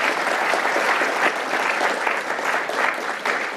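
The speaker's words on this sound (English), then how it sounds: "Can we get a round of applause for Oliver?" Audience applause at a conference talk on Kubernetes and Python, a steady dense clapping from a room of people that holds at an even level throughout without pause.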